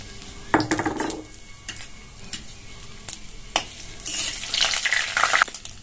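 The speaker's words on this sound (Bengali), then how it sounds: "তেলটা গরম হয়ে গেছে, ফোড়নগুলো দিয়ে দিচ্ছি।" Whole spices dropped into hot mustard oil for frying, ahead of a sago khichuri; sharp crackling bursts and a stronger sizzle toward the end, with spoon stirring and pan clinks, no talking.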